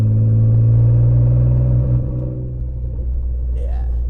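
A fire-damaged C5 Audi Allroad under full throttle, heard as a heavy, loud engine rumble from the cabin that eases off partway through, with a brief voice near the end.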